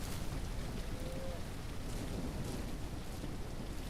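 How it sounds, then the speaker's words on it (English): Steady, dense rain in the Ranch Simulator video game, hissing evenly throughout at moderate loudness with a faint low rumble beneath. "And it rains again."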